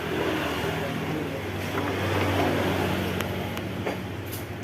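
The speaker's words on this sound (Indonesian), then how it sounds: "motor kondisi hidup ya" A motorcycle engine runs steadily at idle with a constant low hum and a few faint clicks, while oil that has risen into the air filter is being checked.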